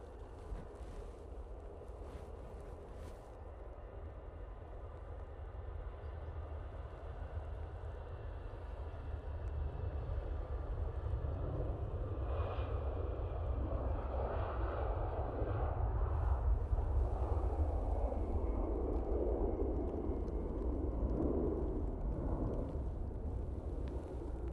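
An EasyJet airliner starts its takeoff roll at Manchester Airport, a distant low jet rumble that swells steadily and stays broad and roaring, mixed with wind buffeting the microphone.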